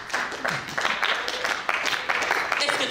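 Congregation at a French-speaking church service clapping in irregular bursts, a steady spread of hand claps across the room mixed with voices and cheering.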